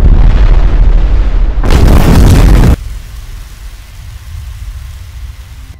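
A grenade detonates in a sudden, loud blast with a roaring burst lasting about a second, then cuts to a low, murky rumble that trails off.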